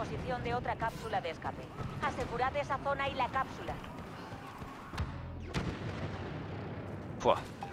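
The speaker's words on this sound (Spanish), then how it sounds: "¡Pum! Explosiones por todos lados" Booming explosions and blasts from Star Wars Battlefront game action, with rapid crackling gunfire and a voice talking over the chaotic mix.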